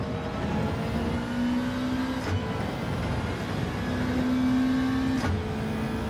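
A racing car engine in Gran Turismo 7 holds a steady, close droning roar with a thin whining tone on top and brief rises in pitch, with no voices.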